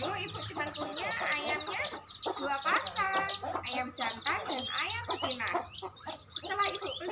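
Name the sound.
chickens clucking, roosters and hens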